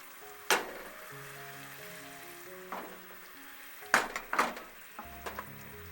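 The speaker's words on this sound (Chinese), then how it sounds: "煮焦糖的过程中，可以轻摇锅子让它均匀" Caramel bubbling in a pan for caramel apple pound cake, a soft sizzle with occasional sharp clinks and bursts under gentle background music.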